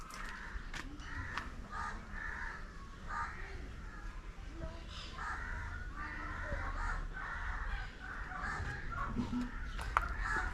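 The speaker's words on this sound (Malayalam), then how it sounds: "പല ടൈപ്പ് കോഴിയിനങ്ങളാണ്." Among a mix of chicken breeds kept in a coop, a rooster crows faintly at a distance while hens cluck over a low background murmur.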